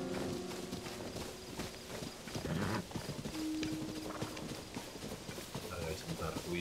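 Horse hooves clip-clopping in The Legend of Zelda: Tears of the Kingdom video game, a steady walking rhythm of hoofbeats mixed with game sounds and background music.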